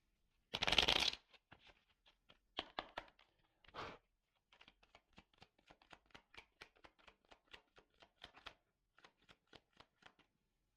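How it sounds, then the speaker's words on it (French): A deck of tarot cards gets a brief riffle shuffle, then a quiet run of soft, scattered flicks and taps as cards are drawn and laid down in a silent room. "je prends encore quelques cartes"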